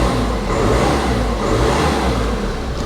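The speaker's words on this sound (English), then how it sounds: "Starts up, no issues." A Ford Ecosport diesel engine, a low-mileage salvage-auction car, runs close by with a steady, loud low rumble and no faltering or variation.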